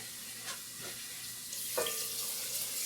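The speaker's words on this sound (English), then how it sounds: "So in goes the milk." Milk pours into a hot pan for mac and cheese, a steady liquid hiss and sizzle that swells midway as the flow increases, with a few faint clinks, no voices.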